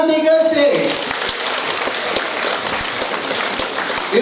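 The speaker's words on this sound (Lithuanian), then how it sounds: "Aplodismentai garsiai!" A crowd at a Roma integration centre festival event in Šiauliai breaks into loud, sustained applause, with a voice briefly audible at the start before the dense clapping fills the rest.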